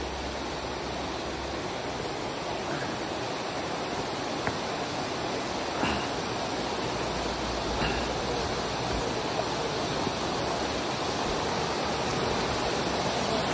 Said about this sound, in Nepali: खोला त सानो देखिन्छ त यार तर गहिरो छ